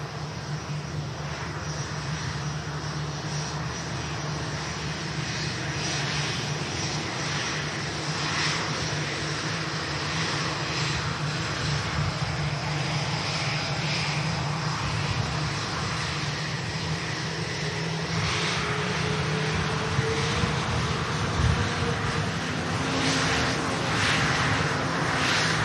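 An airliner arriving from Bangkok rolls along the rapid exit at Manchester Airport, its jet engines giving a steady, moderately loud drone with no voices over it.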